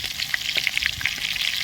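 Dried red chillies and garlic cloves fry in a hot pan with oil, giving a steady close sizzle dotted with small crackles and pops that runs without a break through the short moment.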